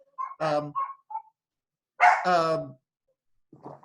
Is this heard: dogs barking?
yes